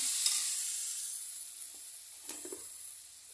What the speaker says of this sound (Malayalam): ഒന്ന് ചെറുതായി ഇളക്കിയെടുക്കാം പച്ചമണം മാറി വന്ന ഇഞ്ചി വെളുത്തുള്ളി പേസ്റ്റ് സവാളയിലേക്ക്